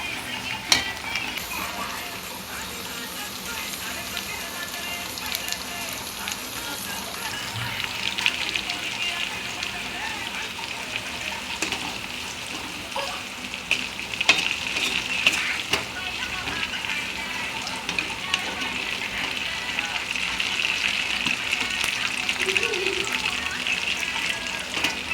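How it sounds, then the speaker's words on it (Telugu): Ivy gourd curry sizzles and simmers in a pan, a steady close crackling hiss that runs the whole time with gentle bubbling and occasional stirring. "దొండకాయ కర్రీ అండి. ఆల్మోస్ట్ పంపింది, కొంచెం మగ్గాలి."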